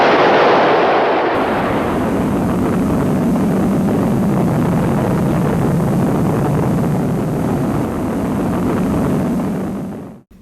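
Roaring rocket engine ignition at the launch of a Titan missile: a loud sustained broadband rumble that swells in at once, holds steady for about ten seconds, then cuts off abruptly.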